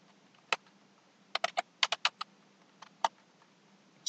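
Computer keyboard typing in short irregular bursts of crisp key clicks, close and moderately loud, with quiet gaps between clusters and no talk.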